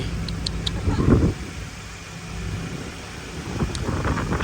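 Slow-moving cars in a holiday traffic jam at the Khao Chong Takho pass between Sa Kaeo and Buriram, a steady low engine and road rumble with gusty wind buffeting the microphone, swelling briefly then settling.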